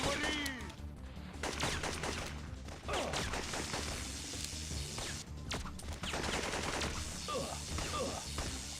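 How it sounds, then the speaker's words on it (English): Enemy gunfire erupts in a PlayStation video game as a foe fires wildly, with dense, rapid bursts of shots and crashing impacts layered over continuous game noise. "Yeah, firing wildly."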